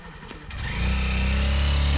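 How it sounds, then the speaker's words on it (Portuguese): A motorcycle engine starts up and swells into a loud, steady drone as it revs and pulls away nearby, with no one speaking. "tá indo aí o rapaz aí, que ele vai até o pezinho aqui de moto"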